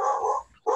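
A small female dog gives two quick, close barks with a brief gap between them.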